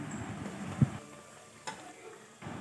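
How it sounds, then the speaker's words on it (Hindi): Jackfruit and chana dal fritters frying in hot oil, a low, soft sizzle with scattered faint pops and a couple of brief utensil taps, quiet and close. "ऐसा करके हम सभी बड़ों को तेल में डाल देंगे और गोल्डन होने तक इसे हम फ्राई कर लेंगे।"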